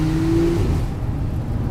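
Turbocharged engine of a Porsche 911 GTS convertible on the move: a brief rising rev that fades into a low, steady engine rumble, heard alone at moderate volume.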